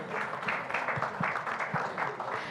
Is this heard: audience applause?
yes